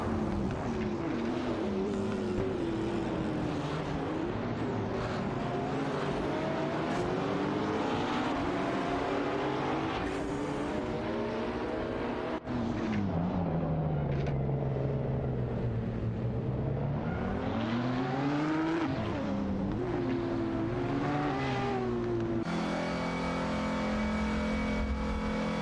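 Race cars in an AI racing video game roar steadily close by, their engines rising and falling in pitch through gear changes and acceleration for the full stretch, with no talk.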